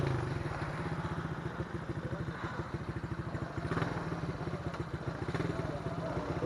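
Modified Honda CD70 motorcycle engine ticking over in a steady, rapid put-put rhythm at night, fairly close and continuous throughout.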